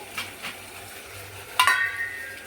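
Masala frying in oil on low heat while being stirred, with soft scrapes of a spoon in the pan and a brief clinking rattle against a faint sizzle.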